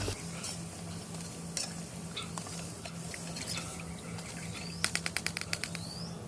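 Fried shrimp cakes scooped from hot oil into a strainer over steady frying sizzle, with scattered scrapes and a burst of rapid rattling taps near the end, close and fairly quiet.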